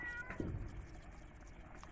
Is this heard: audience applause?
no